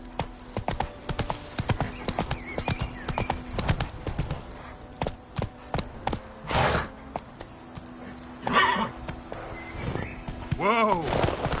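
Geralt's horse Roach in Witcher 3 gallops with rapid, close hoof clip-clops, then gives a loud neigh and whinnies near the end, with someone speaking briefly between them.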